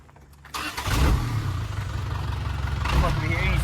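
A truck engine cranks and catches with a sudden rumbling burst, then settles into a steady idle before revving briefly near the end, with people talking over it.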